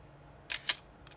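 A Miranda Auto Sensorex EE film camera fires its shutter at a slow speed: two crisp mechanical clicks about a fifth of a second apart, then a faint trailing tick, alone in a quiet room.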